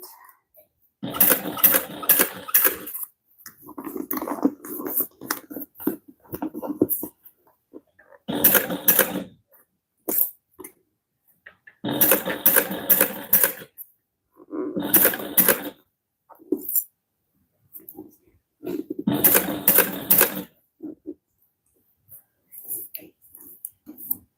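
Cylinder arm sewing machine stitching in repeated bursts of a few seconds each, with quiet pauses between runs, close and fairly loud, no talk over it.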